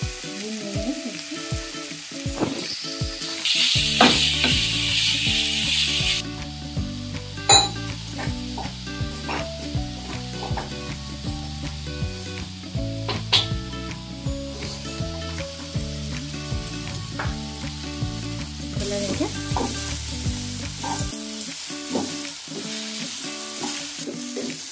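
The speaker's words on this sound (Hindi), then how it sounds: "घी गर्म हो गया है, अब इसमें हम गाजर डाल के फ्राई कर लेंगे।" Grated carrots frying in hot ghee for carrot halwa, a steady close sizzle with stirring and scraping against the pan all the way through, under a bright music track and with no talking.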